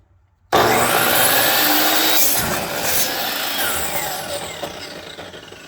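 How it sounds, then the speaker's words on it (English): A RIDGID 15 amp 12-inch dual bevel miter saw bites into old scrap wood, starting abruptly and roaring loud and close, then whining steadily as the blade cuts through and slowly winds down. "Everything I'd expect out of a chop saw or a miter saw."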